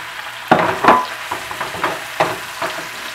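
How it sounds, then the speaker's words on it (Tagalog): Onion and thinly sliced beef hit a frying pan and are stirred, making irregular bursts of scraping and tossing over a light, close sizzle. "Lagyan ng sibuyas po, lagyan na po din natin kaagad po ang beef slice."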